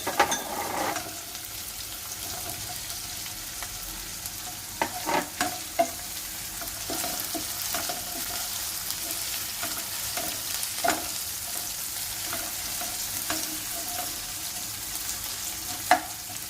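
Onions and chillies frying in a pan for restaurant-style hakka noodles, giving a steady close sizzle broken by occasional stirring scrapes and clicks of a spatula.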